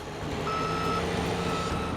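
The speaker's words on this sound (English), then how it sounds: "Another driver joins the rescue mission with a trucker's saviour, a grader." A road grader in the Australian outback sounds its reversing alarm, a steady electronic beep held over a continuous loud engine rumble.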